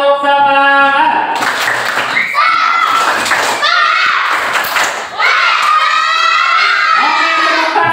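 A class of schoolchildren at an elementary school perform a rhythmic spirit clap, loud claps and thumps in patterned bursts mixed with their chanting voices, after a single adult voice leads off.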